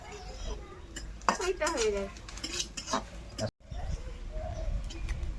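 Chopped onions fry with whole garam masala and cumin in a clay pot for pulao, with scraping stirs and soft clatter of a utensil against the pot, while people talk nearby.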